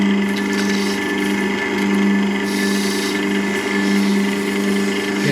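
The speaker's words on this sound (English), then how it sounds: "I'm going to sand it with 800 and the mineral oil" Olive wood turning on a lathe while being sanded with 800 grit paper and mineral oil, a steady continuous whirring hum with soft rubbing texture, close and constant throughout.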